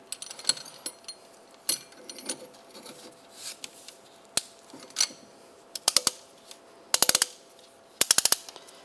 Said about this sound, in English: You want to use a caliper compressing tool.